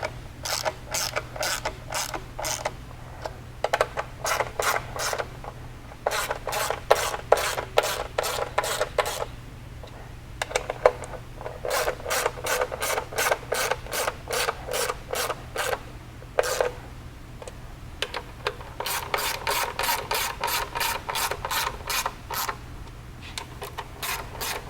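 Bolts on a skid plate being tightened on a Wolverine UTV: rapid bursts of ratchet clicking repeat in quick runs with short pauses between, close and crisp over a low steady hum.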